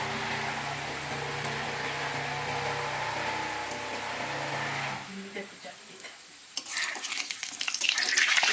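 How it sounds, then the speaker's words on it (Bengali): Homemade khal khal snacks fry in hot oil. A steady close sizzle is followed by a brief lull, then sharper crackling bursts as more pieces go into the oil, with a voice faintly present. "এবারে আমি এগুলোকে তেলে ছেড়ে দেবো।"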